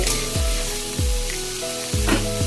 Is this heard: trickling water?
no